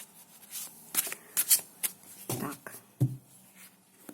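Tarot cards being shuffled in quick riffling bursts, close and crisp, with short pauses between them.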